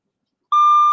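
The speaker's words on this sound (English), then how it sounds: "So that's the doorbell." An automotive SMD buzzer sounds a doorbell tone: after half a second of silence, a single loud, steady electronic beep starts abruptly and holds to the end, close and clean with no talk.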